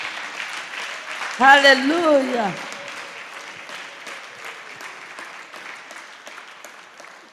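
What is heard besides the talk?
applause in a church gathering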